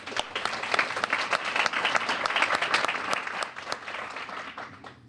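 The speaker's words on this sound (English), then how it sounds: "let us welcome you with our applause" Audience applause at a Rotary Club Tuesday luncheon welcoming a guest, a steady, dense patter of many hands clapping for about five seconds before tapering off.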